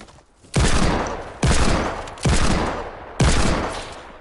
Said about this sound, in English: Did you just pistol him?